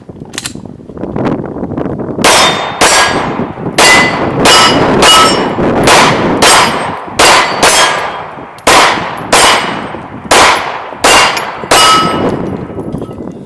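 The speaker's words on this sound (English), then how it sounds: "You can celebrate by watching me shoot some Carolina blue targets." A Sig P226 pistol firing at steel targets on a shooting range gives about a dozen loud, sharp shots, each followed by a ringing metallic clang, in an irregular quick rhythm with brief pauses.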